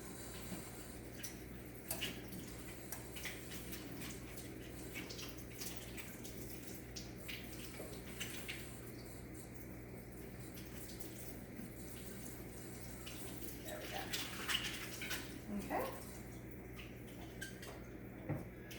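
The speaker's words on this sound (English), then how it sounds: "I'm just going to go wash that off real fast" Celery rinsed under a running kitchen sink tap: a steady, soft hiss of flowing water continues throughout, with occasional splashes and small knocks as the stalks are handled, strongest near the end.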